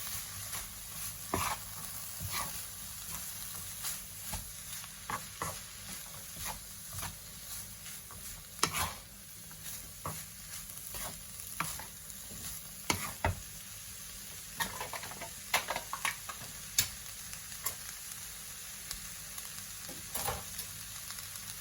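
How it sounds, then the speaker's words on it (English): Garlic sizzles steadily in a pan for a plant-based chilli while a spoon stirs it with soft scrapes and taps, a constant close frying hiss with scattered clicks and no voices. "Give it another mix. Mix in our garlic."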